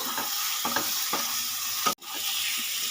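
Fried potatoes are stirred in hot oil with poppy seed paste and green chillies for a Bengali aloo dum. A steady sizzle runs throughout, broken by several soft scraping strokes and a sharp spatula knock near the two-second mark.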